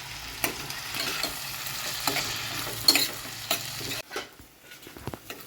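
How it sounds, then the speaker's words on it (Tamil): Curry leaf kuzhambu base with turmeric and salt sautéing in a pan, a steady close sizzle broken by scraping stirs, then quieter after a pause. "நல்லா வதக்கிக்கலாம்."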